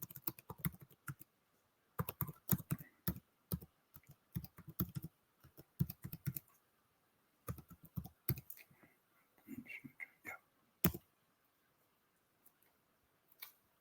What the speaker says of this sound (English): I type my email address again here in the chat.